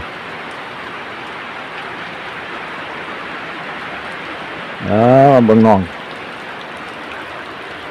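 Steady rain falls on a rainy day as an even hiss that runs the whole time, and a single voice speaks briefly over it near the end.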